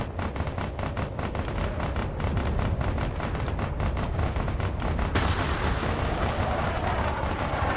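Cannons fire at mechs in a Space Engineers RTS battle, a steady barrage of booming, rumbling shots and explosions that stays loud throughout with no voices.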